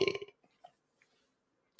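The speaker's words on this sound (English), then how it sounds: "That's my fifth burp of this stream" A single short, close burp at the start, followed by near silence with a few faint small sounds.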